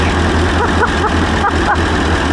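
An old Ford engine in need of a rebuild, smoking a little, runs at a steady idle with a continuous low rumble and faint mid-range tones over the full stretch.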